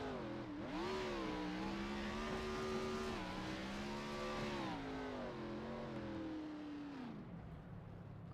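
A race car engine in a racing video game drones and revs at high pitch as it spins through donuts at Road America, the note rising and dipping smoothly before fading away, with no voices.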